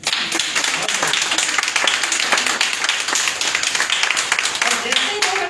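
Workshop audience clapping, a dense, steady patter of many hands at close range, with voices mixed in underneath.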